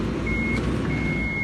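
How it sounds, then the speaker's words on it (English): Toyota Hiace wheelchair lift sounding a steady high electronic warning beep, a continuous tone with a short break, over low vehicle rumble. "You'll hear a continuous beep like that, and that's just to let you know obviously that it is incorrectly."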